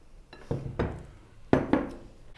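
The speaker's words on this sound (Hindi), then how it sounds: "अब हम सब्जियों को भी मिक्स कर लेंगे।" Spoon stirring chopped vegetables into a thick gram flour batter in a bowl for pakora, giving four distinct knocking scrapes against the bowl in two pairs. No one speaks.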